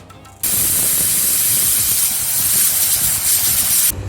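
A pressure cooker lets out a loud, continuous hiss of escaping steam that lasts several seconds, then stops abruptly.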